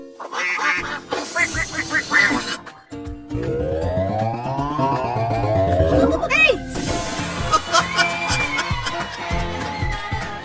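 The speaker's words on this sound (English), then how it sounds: "7 ducks are swimming in the lake." Ducks on a lake quack repeatedly in loud, close, overlapping calls, with bursts of honking and nasal cries running through the whole stretch.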